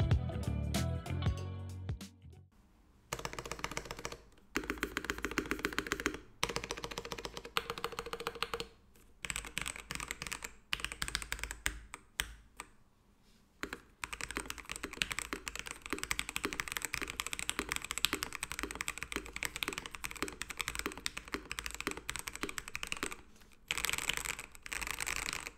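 Steady typing and bursts of keystrokes on a MelGeek Mojo68 keyboard with Gateron Brown Pro switches, stock out of the box, heard up close with short pauses between runs of clacky taps and no talking.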